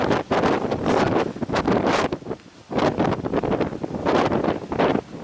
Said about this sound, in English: This wind is really whipping up.